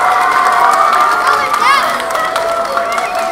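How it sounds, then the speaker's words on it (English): At a Grade 3 and 4 school concert, a crowd of parents and children cheers and claps for the students, loud and continuous with excited high-pitched shouts and voices mixed in. "Give them a round of applause."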